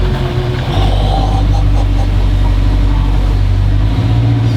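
A 1970 Dodge Challenger powered by a 392 SRT engine, shifted into drive with its factory shifter, rumbling steadily as it eases off, a deep loud continuous engine drone with a slight rise as it starts to roll.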